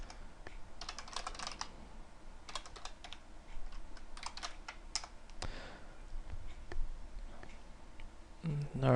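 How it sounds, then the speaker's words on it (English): Typing on a computer keyboard while coding a simple C++ Qt notepad application: steady, close clicking keystrokes come in quick runs and pauses, with faint speech in the background. "I'm having the hardest time typing that."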